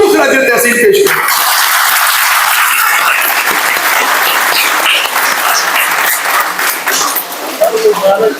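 An audience breaks into sustained applause at a speech event honouring a national council for medicine, loud, dense clapping that fills the whole stretch, with a few voices and chuckles mixed in.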